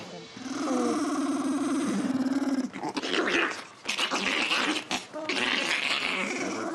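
A 2.5-pound Chihuahua growls in a sustained low rumble close by, then snarls and yips erratically as a voice speaks over the commotion.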